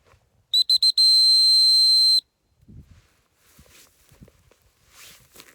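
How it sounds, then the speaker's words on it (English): A dog training whistle sounds in the field: three short sharp blasts followed by one long sustained tone, close and clear, then quiet rustling and footsteps outdoors. "So I'm just going to give her the whistle."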